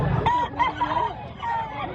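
Rooster crowing at a gamecock expo in Mantalungon, Barili, Cebu, with several drawn-out crows overlapping in a busy, noisy setting, and other birds calling faintly underneath.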